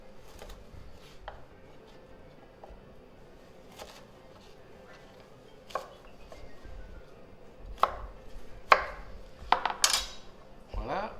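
A knife slicing thin cut slices of food in half on a cutting board for antipasti, a few sparse soft taps early, then a cluster of sharper chopping knocks near the end, close and fairly quiet.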